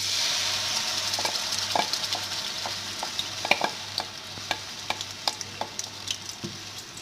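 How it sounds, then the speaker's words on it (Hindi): Ground onion paste frying in oil for a white boneless chicken handi hisses in a steady sizzle, with regular spoon scrapes and taps against the pot, close and unbroken, no voices. "ऑयल शामिल करने के बाद अब हम इसके अंदर पिसे हुए प्याज शामिल करेंगे।"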